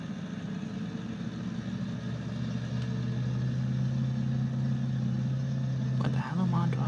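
Tractor engine droning steadily while driving in Farming Simulator 19, a low mid-range hum that holds throughout and shifts slightly in pitch near the end, with a voice talking over it.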